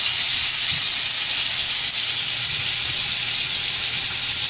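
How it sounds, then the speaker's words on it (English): Meat sizzles and fries steadily in hot oil in a pan, a dense, even hiss held at a constant loudness throughout, close up, with no talking. "Now that sizzle is exactly what you want"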